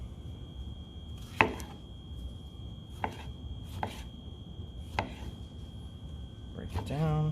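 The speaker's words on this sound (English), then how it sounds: "Anytime you're cutting tomatoes, use a very sharp knife or a serrated blade." A knife cuts through tomatoes on a cutting board while ratatouille is being prepared. About five crisp, separate cuts land a second or more apart over quiet kitchen background noise.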